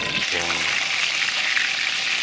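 Meat sizzles in lamb-flavored oil in a hot pan, giving a steady, loud hiss of frying that runs throughout, with a brief voice at the start.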